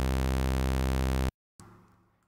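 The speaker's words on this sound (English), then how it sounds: "saw waves," A synthesized saw wave sounds as a bright, buzzy, harmonically rich steady tone for just over a second, then cuts off sharply, followed by brief faint noise.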